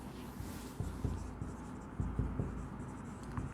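A pen writing by hand on paper while working an accounting problem, giving soft, close scratches and taps in an uneven rhythm against quiet room noise.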